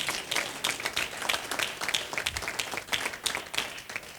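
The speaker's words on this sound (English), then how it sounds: "Give her a round of applause." Audience applause at a leadership institute event honoring a county board president, a steady patter of clapping from a moderate-sized crowd lasting several seconds with no speech over it.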